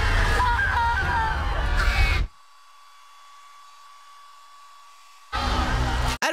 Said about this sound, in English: Oh no, the hair dryer!